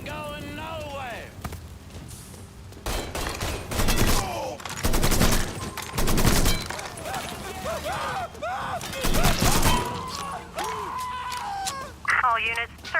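Gunfire and a grenade in Mafia 3, sharp shot bursts in loud clusters close by, interleaved with shouting voices throughout.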